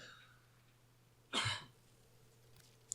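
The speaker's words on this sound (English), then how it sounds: "Hang on, I got a cough." A single sharp cough bursts out close to the microphone, brief and loud against an otherwise quiet, faintly humming background, during Warframe gameplay.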